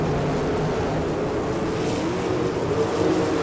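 A pack of sprint cars races at Attica speedway in Ohio, engines roaring steadily and loudly together as a continuous dense drone with no voices.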